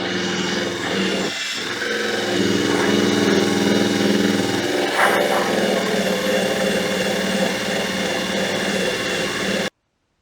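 A power drill fitted with a disc strips paint from the body of a Citroën 2CV, giving a steady, loud grinding whir that runs without a break for nearly ten seconds, with a short dip early on.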